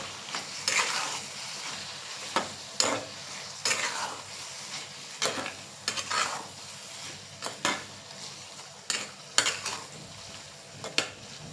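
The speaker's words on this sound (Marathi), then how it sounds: "दाण्याचं कूट आपण छान असं परतून घेऊया" Crushed peanut powder is sautéed with cooked bitter gourd in a pan over a soft sizzle. Repeated sharp scrapes and clinks of a spoon stirring against the pan come in an irregular rhythm throughout, close up.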